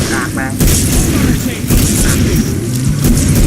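Loud, booming explosions in the video game Killing Floor with heavy low rumble, several blasts in quick succession filling the sound.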